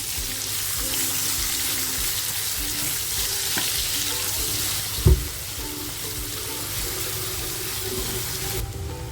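Onion frying in a pan with cloves, cinnamon, green and black cardamom and bay leaf: a loud, steady, close hiss of sizzling oil, with one sharp clunk of a utensil midway.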